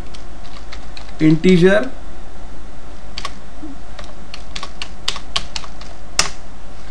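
Someone types C code on a computer keyboard and presses Enter, giving steady, close key clicks with a few louder strokes. Someone speaks Hindi briefly over the typing.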